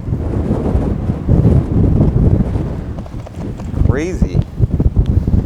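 Steady, loud wind roars and buffets the microphone while cycling into a headwind on a hilly ride in East Clark, with someone briefly speaking over it.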